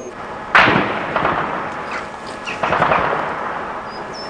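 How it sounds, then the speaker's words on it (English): Gunfire from a gun battle around a hotel and its parkland in Ilidža, Bosnia: a sharp nearby crack, then more shots and rumbling reports echoing at a distance. "There has been a gun battle going on around this hotel in the parkland all morning."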